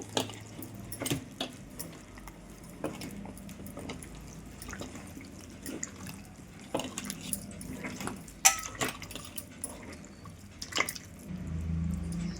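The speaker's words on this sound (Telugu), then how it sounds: "ఇప్పుడు కొంచెం కొంచెం వాటర్ వేసుకుంటూ చక్కగా జారుగా కలుపుకోవాలి" Water trickles little by little into batter while it is mixed, with a steady string of soft drips and wet stirring splashes at close range, fairly quiet throughout.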